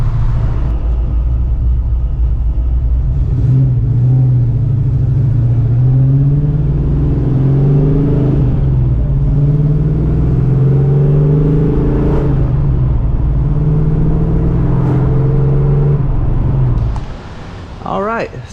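A 1987 Saleen running on a test drive, its engine droning steadily at the start, then rising and falling through several revving surges before it settles and idles down near the end, loud and close under intermittent talk.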